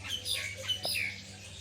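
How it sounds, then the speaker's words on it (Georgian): Birds chirp in a park beside Daniel's mausoleum in Samarkand, Uzbekistan, with short, high tweets scattered over a faint, steady outdoor hum at moderate distance. "არიან ჩიტები, ალბათ გესმით ხმაც."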